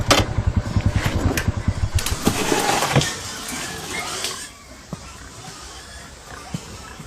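A motorcycle with a starting problem sputters and chugs in uneven low pulses for about three seconds, then dies away, leaving scattered faint knocks and movement; voices are present nearby.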